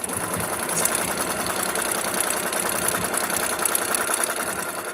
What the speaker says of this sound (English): we're sewing rows together